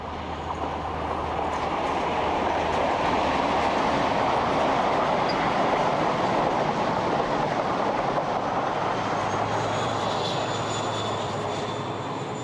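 Diesel train running along the seawall at Dawlish, a steady loud rumbling roar of engine and wheels that holds throughout, with a faint high whine rising near the end.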